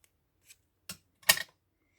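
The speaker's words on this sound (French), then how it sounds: "Il suffit juste de découper" Scissors snip through paper while a Christmas box is being made, giving three short, crisp cuts spaced across two seconds, the last one loudest and slightly drawn out, close up with no talking.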